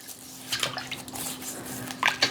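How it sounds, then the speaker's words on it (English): A brush scrubs produce soaking in a water-filled dish, giving soft wet scraping strokes and sloshing with light knocks against the dish, close and fairly quiet. "while they're in the water, you use the brush to clean them"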